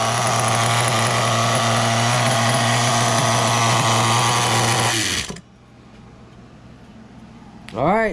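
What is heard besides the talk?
nitro engine of a Losi Muggy RC truck running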